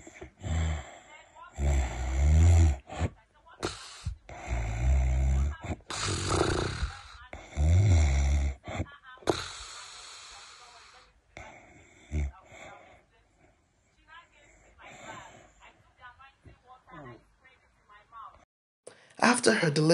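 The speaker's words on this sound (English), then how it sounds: "always slept with heavy noise coming out of her mouth and nose because her lungs were tight and breathing was difficult for her" A woman with tight lungs and difficult breathing snores heavily in her sleep, loud rough rasping breaths recurring every few seconds, close by, with noisy gaps and softer breathing between.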